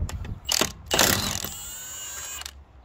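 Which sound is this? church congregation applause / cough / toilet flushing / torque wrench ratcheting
torque wrench ratcheting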